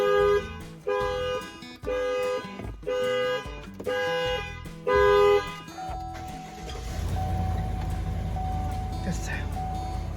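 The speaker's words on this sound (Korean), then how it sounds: "안 그러면 알람이 너무 시끄러우니까" Car alarm on a 2020 GMC truck after the door is unlocked with the key, a loud repeating horn-like tone in regular pulsed bursts, then giving way to a steady tone over engine and background noise.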